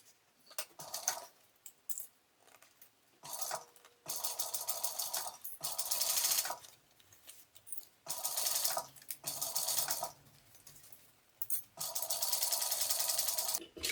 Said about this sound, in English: Now just sew a little bit at a time.